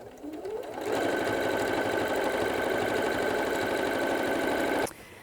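A sewing machine stitches a long basting line near the edge of a quilted place mat, ramping up quickly into a fast, steady mechanical whir and rhythmic needle clatter for about four seconds, then stopping abruptly.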